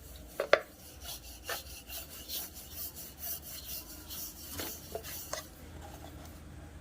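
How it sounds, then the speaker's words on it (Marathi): Puri dough is rolled out with a rolling pin on a floured surface, giving soft, faint rubbing strokes with a few sharper knocks and taps scattered through, without any talking. "आता मी पीठ लावून पुरी लाटून घेते"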